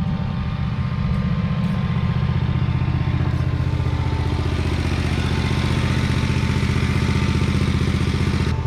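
The engine of a Yazoo Kees ZT Max zero-turn mower idles close by with a loud, steady, even chug that never rises or falls.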